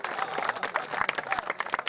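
Applause from an audience greeting an honoured guest, Mr. Ghananand Godiyal, at a village puja ceremony, with steady dense clapping throughout and a few louder individual claps standing out.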